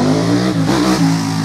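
A 2015 Ducati Scrambler Icon motorbike revving loudly and close by at a festival, a dense, steady engine roar with a brief dip in revs partway through the short burst.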